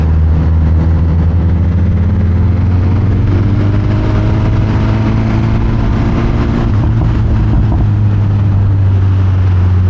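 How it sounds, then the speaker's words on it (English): A steady, loud motorcycle engine drone with a low rumbling exhaust note, holding a constant pitch with slight wavering, close up. "a little test for you to hear what my exhaust is sounding like"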